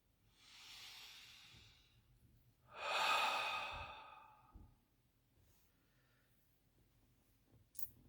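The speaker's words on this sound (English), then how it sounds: "Deep breath." Two slow, deep breaths drawn close and alone in a quiet room, each a soft airy rush lasting about a second and a half, with near silence between.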